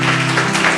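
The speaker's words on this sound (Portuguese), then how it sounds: "Louve a Deus com as suas palmas." Church congregation clapping together at a service, a brief, loud, even burst of palms with a sustained tonal hum underneath.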